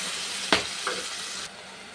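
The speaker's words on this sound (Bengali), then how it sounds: "আলুটা পটলটা ভেজে নিচ্ছি।" Potato and pointed gourd fry in hot oil with cumin and bay leaf, giving a steady sizzling hiss with a couple of brief clinks or stirring scrapes before the sound drops slightly.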